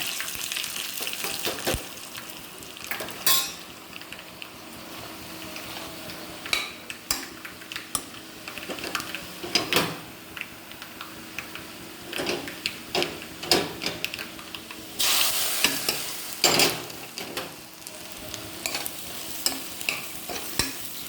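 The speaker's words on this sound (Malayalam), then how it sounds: "മൂന്നാല് പറങ്കി വറുത്ത് ചേർക്കുന്നുണ്ട്" Red chillies frying in a pan: a soft steady sizzle with frequent scraping and clinking of a spoon stirring against the metal.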